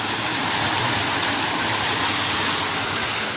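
Irrigation water rushing through channels in a farm field, a steady loud hissing flow that stays constant from start to finish with no voices.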